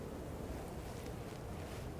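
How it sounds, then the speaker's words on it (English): Steady gusting wind blows continuously in the open landscape of the video game Ghost of Yotei, a broad rushing whoosh at low volume with no talking. "Sure is windy."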